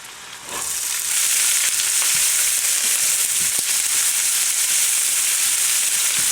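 Onion for eggplant moussaka hits hot oil with a sudden loud sizzle that settles into steady, close frying, with a few faint clicks of stirring and no voices.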